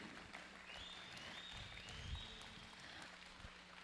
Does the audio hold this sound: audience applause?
yes